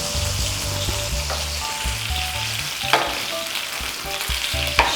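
Breakfast sausages frying in a pan over low heat give a constant close crackling sizzle, joined by a low steady hum and an occasional sharper pop or tap.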